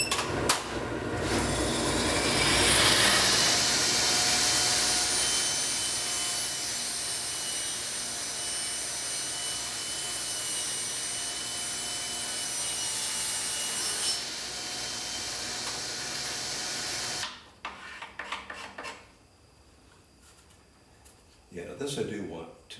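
A table saw rips strips of wood off workpieces on a Shopsmith/BT3000 sliding table setup, a loud sustained whine and rasp running steadily for about fourteen seconds, then dropping off as the blade spins down, with a few clattering handling noises after.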